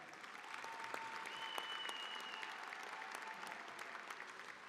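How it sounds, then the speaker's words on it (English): Banquet-hall applause at a national college football awards dinner honoring the Player of the Year, a steady, moderately quiet spread of many hands clapping with a couple of faint sustained tones running underneath. "Round of applause for this young man."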